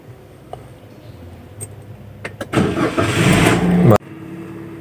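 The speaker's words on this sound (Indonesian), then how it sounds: "Untuk menyalakan mobil, kita putar 1 kali." A car key turns with a few small clicks, then the engine cranks and fires loudly nearby, rumbling for over a second before the sound cuts to a quieter idle hum; no one speaks.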